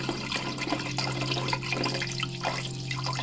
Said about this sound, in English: It looks like I still need to add a little bit more water